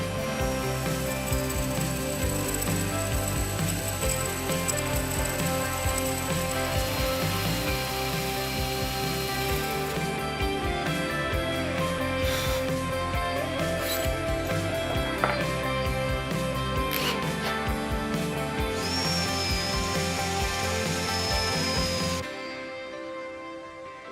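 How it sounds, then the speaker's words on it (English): A power drill bores holes into pieces of wood log for planters, a loud, steady whirring grind that runs continuously for over twenty seconds with small shifts in pitch and load before cutting off. "So, Leah, the smaller pieces are now done and all drilled and they're looking great"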